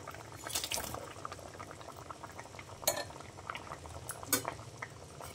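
Fish curry bubbles in a pot as fish pieces are added, soft simmering burble with a few sharp clinks of utensils against the pot and light splashes, close and fairly quiet, no speech.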